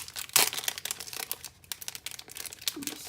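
Plastic packaging holding Amy Tangerine wool half stickers crinkles and rustles as it is opened, a run of close, fairly quiet crackles with one sharper burst near the start.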